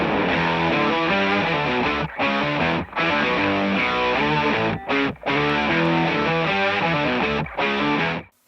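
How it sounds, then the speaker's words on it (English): Distorted electric guitar riff from a Les Paul Jr. with a P90 pickup through an octaver, thick and mid-heavy, played loud and close in sustained phrases with brief clean breaks. "First with my Les Paul Jr. with the P90 pickup and an octaver"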